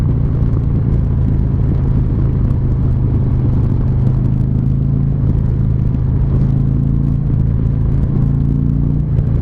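Harley-Davidson motorcycle engine rumbling steadily while riding, a loud, continuous low drone with slight rises in pitch as the throttle opens.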